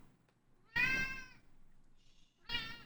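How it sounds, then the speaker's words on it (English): A cat meows for attention, one drawn-out near meow followed by a second starting, with quiet gaps and a faint chirp between. "kitty cat. It's so cute. She decided So she wanted attention."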